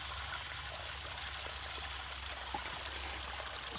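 Water trickles and splashes steadily as a gold prospecting mat is rinsed out into a small bucket outdoors, a continuous close wash with no speech.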